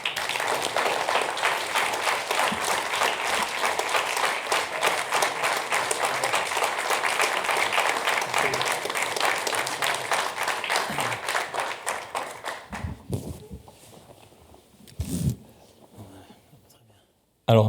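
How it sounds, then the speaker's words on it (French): A live stage audience gives loud, sustained applause for about twelve seconds as a guest is welcomed at a French talk-show event, the clapping then thinning out and fading into quiet with a few scattered claps near the end. "je vous demande d'applaudir maintenant le premier invité"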